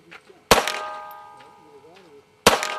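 Two sharp gunshots ring off a steel target at a shooting range, each leaving a metallic ringing decay, with faint voices between them.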